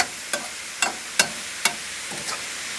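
Food sizzles steadily in a pan that previously held cooked meat, while a utensil scrapes the bottom in four or five evenly spaced strokes, close and alone without talk.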